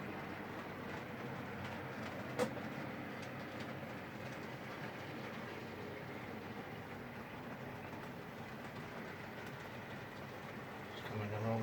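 An OO gauge model prairie tank locomotive runs past a layout station, a faint steady rolling rumble with light rail clatter continuing throughout, one sharp click early on.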